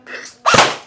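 Airsoft BB gun firing a single electric-mode shot, a brief mechanical whir followed by one sharp, close snap.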